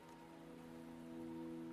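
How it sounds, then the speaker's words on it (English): Steady rain falls in the Wuthering Waves video game, a soft, even patter with a faint musical hum beneath, gently swelling toward the end, with no talking. "Don't worry, the rain won't last much longer."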